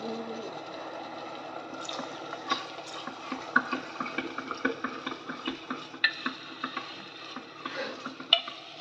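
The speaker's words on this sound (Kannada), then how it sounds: "ಟೊಮೆಟೊ ಹಾಕ್ತಾಯಿದ್ದೀನಿ." Chopped tomato is added to softened onion in a pan for a broken-wheat breakfast dish, with a spoon repeatedly scraping and clinking against the pan over a soft sizzle in an irregular stirring rhythm.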